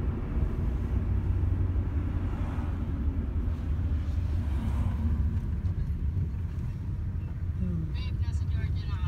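A vintage car on a road in Georgia drives past, heard as a rough, rattly low rumble mixed with steady traffic noise that swells briefly midway, while people talk in the background.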